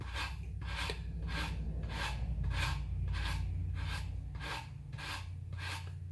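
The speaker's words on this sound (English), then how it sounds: "I'm using a 80 grit sandpaper just to round them over here" Sandpaper of 80 grit rubs back and forth over the corners of a hand-carved wooden rabbit, producing about nine rhythmic, close rasping strokes at an even pace.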